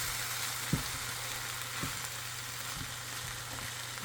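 Singaporean fried rice being stir-fried in a pan, a continuous loud sizzle with a few sharp scraping knocks of the utensil as the rice is tossed, no voices.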